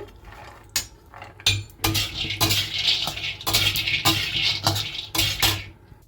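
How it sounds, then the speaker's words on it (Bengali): Cashews and almonds rattle and scrape in a dry pan as they are stirred while roasting, a steady run of irregular clatters and clicks, close by, with no voices. "খালি কড়াইতে জাস্ট রোস্ট করে নেব"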